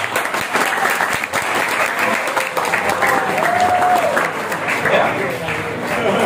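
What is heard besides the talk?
school audience applauding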